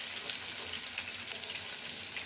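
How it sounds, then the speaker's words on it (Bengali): Chopped onion sizzles in hot oil in a pan, a steady, soft frying hiss with faint crackle throughout, no voices. "পেঁয়াজ কুচি একটু ভেজে নেব।"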